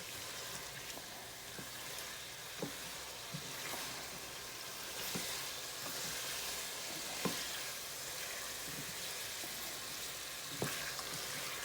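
Potatoes seasoned with garlic powder frying in a pan make a continuous close crackling sizzle, with sparse ticks from stirring and no talk.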